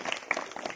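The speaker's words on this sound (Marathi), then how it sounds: "जोरदार टाळ्या वाजवायच्या आहेत." Brief burst of audience applause at a superstition-eradication demonstration, scattered clapping that stays fairly faint and short.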